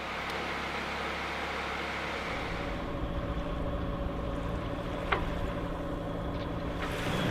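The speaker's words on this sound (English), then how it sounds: "As you can probably hear, this is our least favorite thing to do, and that's turn on that engine." A sailboat's engine hums steadily and quietly under broad wind and water noise, its low drone continuous throughout with a brief click partway through.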